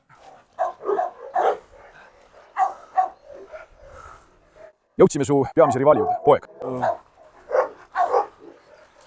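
A blue Cane Corso and other dogs bark, with a burst of loud, close barking midway, while someone talks over it before and after.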